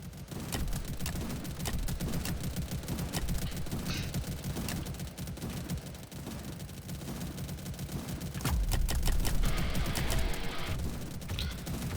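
Sentry gun tower firing in a Roblox tower defense game, dense rapid automatic gunfire that runs continuously and loudly with heavier blasts mixed in, no voices.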